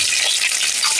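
Chopped onions and tomatoes fry together in a pan, giving a brief, steady, hissing sizzle close by with no talk.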